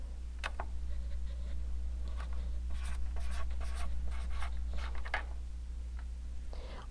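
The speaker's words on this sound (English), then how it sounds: "So we'll write down some random numbers here." Numbers written by hand during a scientific notation math lesson: scratchy strokes come in short, irregular bursts, close and fairly clear over a constant low hum.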